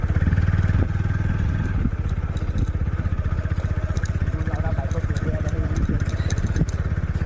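A motorcycle engine chugs steadily in a fast, even rhythm close by, with clattering and occasional voices in the background.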